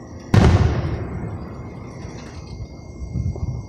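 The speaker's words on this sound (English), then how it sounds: "It's a fireworks show. It's a big fireworks show." A single loud explosive blast from a big fireworks show bursts sharply and decays into a long rumbling tail, followed by fainter distant pops and crackles toward the end.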